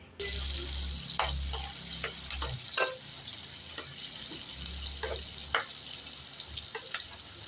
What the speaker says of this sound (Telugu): ఇప్పుడు అదే నూనెలో మసాలాలు వేసుకోండి